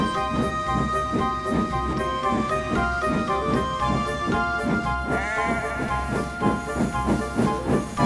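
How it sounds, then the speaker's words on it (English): A steam locomotive chuffs in a steady, pulsing rhythm with hissing steam over a droning background, the beats regular as the train gets underway. "The train jerked and began to move."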